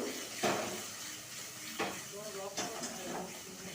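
Poppy seed paste is stir-fried in a pan, with a low hiss and scraping strokes of a spatula against metal recurring every second or so while someone speaks over it.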